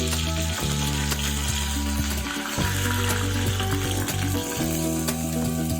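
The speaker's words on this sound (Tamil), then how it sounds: "தாளிச்சு எடுத்து சட்னியில போட்டுருவாங்க." Mustard seeds, urad dal and curry leaves sizzle and crackle in hot oil as a tempering for banana flower chutney, a loud continuous fry with stirring close by and music playing underneath.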